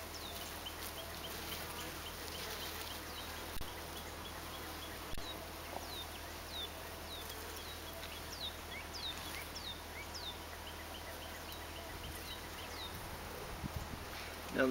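Honeybees hum around an open top bar hive as they festoon on the comb, a faint steady buzz with individual bees zipping past now and then, with outdoor birds in the background.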